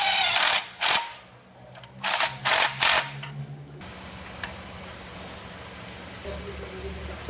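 A reinstalled high pressure fuel pump is tightened down with a ratchet, giving several close, sharp bursts of clicking, then quieter mechanical handling sounds follow, with a voice heard faintly.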